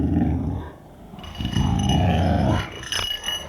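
A 2.5-month-old puppy wearing a bell on her collar growls in close, rough bursts, with a brief pause before a longer sustained growl and softer grumbles toward the end.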